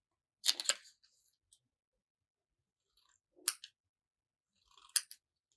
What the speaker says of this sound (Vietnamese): mình sẽ cắt ra hai màu giấy nhỏ như thế này